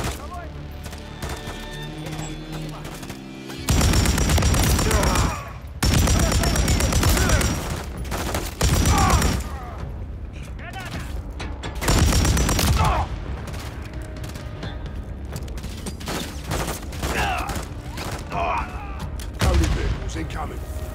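Loud bursts of automatic gunfire in Call of Duty Modern Warfare 3 combat, several long sustained volleys with short gaps and scattered shots between, up close, with voices talking over the fighting.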